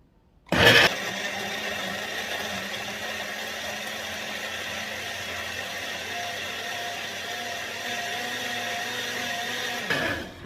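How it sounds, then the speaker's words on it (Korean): A blender starts with a sharp jolt and runs at a steady, high-pitched whir for about ten seconds before cutting off, blending a salad dressing with Korean green plum (maesil) syrup. "믹서에 한 이렇게 30초만 돌려줄게요"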